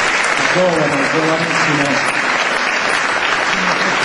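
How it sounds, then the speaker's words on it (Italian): Festival crowd applauding during an evening concert event, a continuous dense patter of clapping with a few voices and cheers mixed in near the start. "quindi un applauso"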